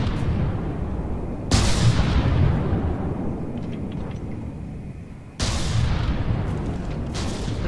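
Missiles and torpedoes firing in the naval combat game From the Depths: two sudden heavy booming launches, each decaying into a long rushing roar over a constant background hum.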